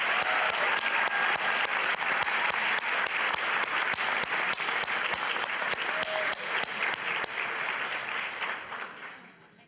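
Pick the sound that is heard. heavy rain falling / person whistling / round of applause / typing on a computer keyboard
round of applause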